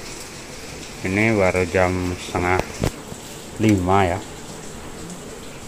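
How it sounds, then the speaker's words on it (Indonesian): Heavy rain pours before dawn as a steady, diffuse hiss running the whole time, partly masked by someone speaking in the foreground. "sudah hujan nih, deras hujannya"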